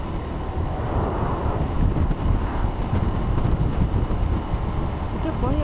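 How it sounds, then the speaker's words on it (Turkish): Strong gusting wind on an open road through flat, barren land with sandstorms around, a loud, constant buffeting roar on the microphone, and a voice speaking under it. "Bugün yol çok rüzgarlı."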